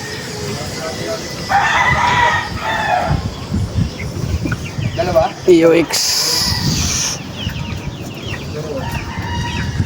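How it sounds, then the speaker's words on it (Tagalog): Chickens cluck nearby while a rooster crows loudly partway through, with people talking briefly over the farmyard noise. "Dami tayo ng manok."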